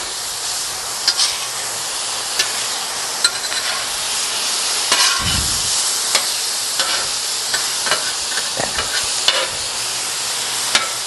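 Chicken fried rice ingredients fry on a griddle with a steady, bright sizzle and hiss, punctuated by faint scraping stirs and one brief low thump midway.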